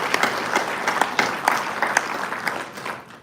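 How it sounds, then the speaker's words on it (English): Audience applause at a leadership training panel during a cable-industry vendor day, a steady round of clapping from a room of people that fades out toward the end. "Round of applause for Roy."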